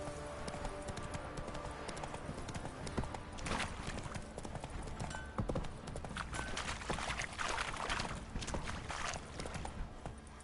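Hooves of Roach, a horse in a video game, clip-clop steadily at a fast gait, loud and close, with rhythmic hoofbeats continuing throughout and a faint voice now and then.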